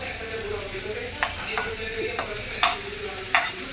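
Ground spice paste (vaatan) sizzles steadily in hot fat in a pan for a coconut chutney. A spoon scrapes and stirs it in a few sharp, close knocks over the continuous frying hiss, with no talking.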